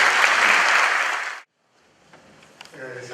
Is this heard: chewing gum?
no